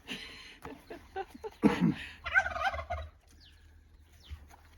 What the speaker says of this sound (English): The turkeys are getting impatient.